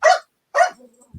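A dog gives two sharp, loud barks close by, the second trailing into a short whine, followed by a low thump.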